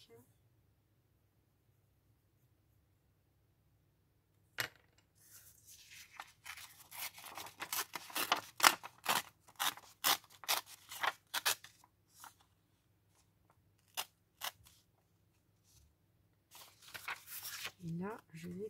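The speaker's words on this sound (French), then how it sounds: "Et là, je vais couper." Scissors cutting paper for a junk journal, a quick close run of crisp snips that pauses, resumes in short bursts and ends in rustling, with someone speaking at times.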